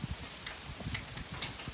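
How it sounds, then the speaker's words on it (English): Rain falls steadily on the roof of a DIY timber-framed woodshed, a soft continuous patter with scattered sharper drops, heard fairly close and alone. "Now it's raining."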